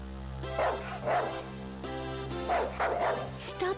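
A dog named Rex gives several bark-like yips and whimpering barks in pairs over a steady humming background, fairly close and moderately loud.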